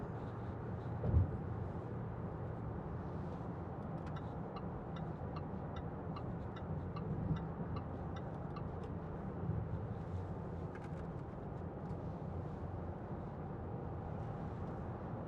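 A 2015 Range Rover Evoque 2.0 TD4 diesel SE Tech automatic 4WD drives along the road, giving a steady low engine and road rumble heard from inside the cabin, with a faint thump early on and no talking.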